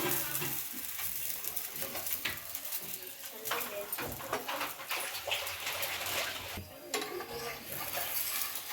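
Ghee sizzles quietly on a hot pan while a utensil stirs and scrapes, a steady frying hiss with intermittent clicks, with some talking in the background.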